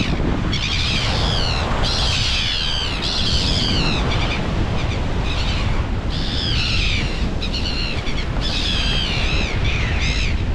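Birds squawking while dive bombing near nesting grounds at Maketu Spit, repeated harsh loud calls in bursts over steady wind noise on the microphone, close overhead.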